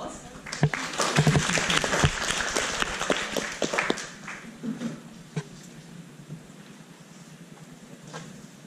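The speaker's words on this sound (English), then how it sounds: "So let's give him a warm applause." Audience applause after a welcoming talk for international students at POSTECH, a dense burst of many hands clapping that swells for about four seconds and then thins to scattered claps with faint voices.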